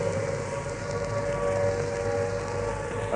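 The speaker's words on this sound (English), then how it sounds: "The noise that you hear at the moment is the sound of the air raid siren." A steady, sustained air raid siren wails continuously without pause, loud and droning over a dull background rumble, outdoors on the steps of St Martin-in-the-Fields, London.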